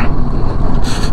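Strong mountain wind buffets the microphone in a steady, loud roar of rumbling gusts, on a high-altitude route to Muktinath in Nepal, with no voices.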